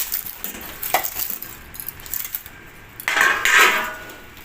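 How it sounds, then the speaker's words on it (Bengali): A metal plate clatters and scrapes as a banana-leaf parcel of coconut prawns is flipped over on a tawa, with a few close clanks and a louder scraping clatter near the end. "এবার এই থালার সাহায্যে উল্টে দেবো।"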